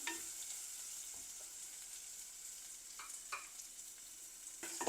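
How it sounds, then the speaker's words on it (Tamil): Onion, garlic and green chillies sauté in a clay pot for a simple fish curry. A soft, steady sizzle runs throughout, with occasional quick stirring scrapes that grow a little louder toward the end. "வெங்காயம் பூண்டு பச்சை மிளகாயெல்லாம் நல்லா கொஞ்சம் வதங்கட்டும்"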